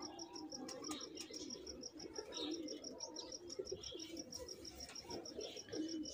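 Jonsiray Teddy pigeons coo softly and repeatedly amid a bed of faint chirping and a steady high insect-like trill.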